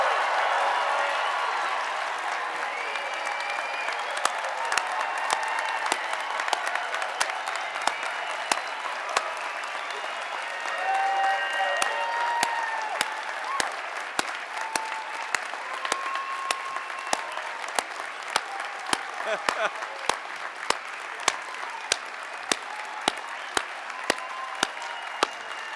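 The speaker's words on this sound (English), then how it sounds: "One big round of applause for all of our graduates." A graduation hooding ceremony audience at the University of Wisconsin Law School bursts into sustained applause, dense clapping filling the hall for over twenty-five seconds with a few sharp nearby claps standing out and scattered cheers mixed in.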